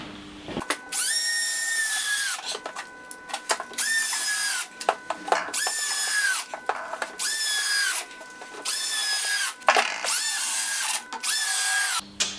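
A power drill drives screws into chipboard panels while a wooden shelter is built, giving about seven sharp, whining bursts separated by short pauses, close and loud.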